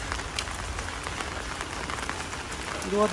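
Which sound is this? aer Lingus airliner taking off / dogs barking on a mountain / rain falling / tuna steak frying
rain falling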